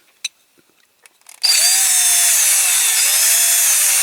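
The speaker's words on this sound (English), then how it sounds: "drill these rivets" After a couple of faint taps, a power drill with a small bit starts up and whines steadily while drilling out the rivets on a Corgi Toys ERF 44G toy truck, loud and close.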